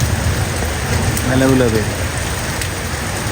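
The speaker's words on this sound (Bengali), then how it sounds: "বৃষ্টি কমার অপেক্ষায় আছি, কিন্তু বৃষ্টি আর কমতেছে না।" Heavy rain pours steadily in a wooded area, a dense, even wash of noise throughout, and a brief voice speaks partway through over the downpour.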